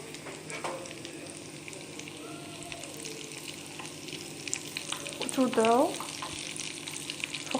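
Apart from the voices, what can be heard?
frying Algerian potato maakouda in oil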